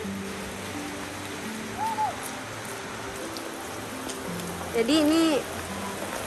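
Steady rain hisses outdoors in Abian Tubuh, Sandubaya, on a walk toward a tofu and tempeh industry waste site. A voice speaks briefly over the constant downpour.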